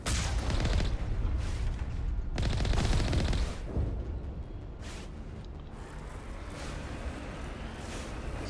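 Sustained automatic gunfire in the Mass Effect game, loud and continuous with heavy overlapping bursts and booming impacts, no voices over it.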